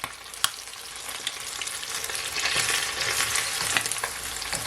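Fish fry in hot oil for Jamaican escovitch fish, a dense crackling sizzle that grows fuller midway, with a few sharp pops and light stirring knocks close by.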